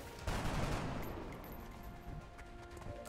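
Gunfire from the turn-based strategy game XCOM: Long War: a sudden loud burst that stays dense for about a second, then trails off into a rumbling tail, with no talking.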